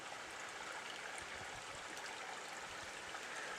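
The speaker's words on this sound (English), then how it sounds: "maybe you can see the water coming out, literally coming right out of the cave" Spring water pours steadily out of a cave mouth in a hillside beside a sinkhole, a soft, continuous rushing and gurgling flow heard alone and fairly faint.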